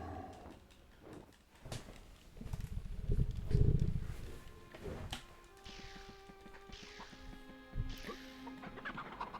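Chickens cluck in the PS1 game MediEvil, with soft scattered clucks and squawks over game ambience, several brief bird calls spread unevenly across the stretch and no voice on top.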